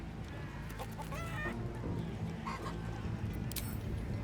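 Chickens cluck in a game of chicken chasing around a course in Baldur's Gate 3, with repeated short clucks and squawks over steady background game ambience and music.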